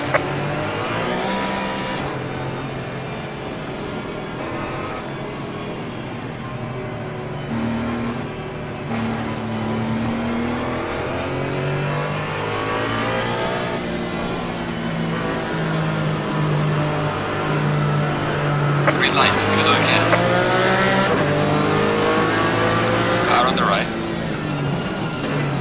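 Porsche GT4 race car engine in Assetto Corsa Competizione, a loud steady drone with harmonics rising through the gears and shifting pitch, a sharper revving surge near the end, a voice speaking over it throughout.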